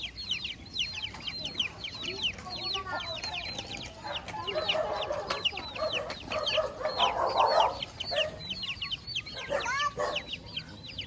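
Chickens at dusk cluck and chatter with clustered, repeated calls and a brief louder flurry in the middle, heard fairly close with faint voices underneath.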